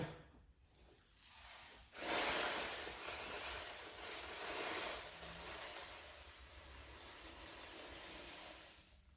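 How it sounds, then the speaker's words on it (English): Playground sand pours into a sandbag fill bag, a steady gritty hiss and rub that starts abruptly after a brief quiet and runs on, fairly faint, with no speech over it. "So I'll take the sand here, pour it into the fill bag."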